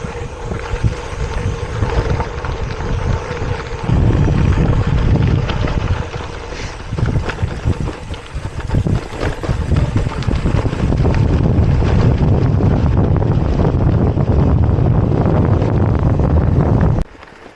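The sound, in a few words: cold wind blowing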